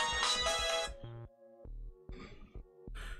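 An incoming phone call rings with a melodic ringtone: a loud, close run of bright tones followed by shorter repeated notes, with no voices over it.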